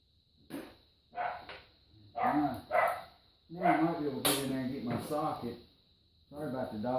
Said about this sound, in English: Sorry about the dogs, they're playing out there.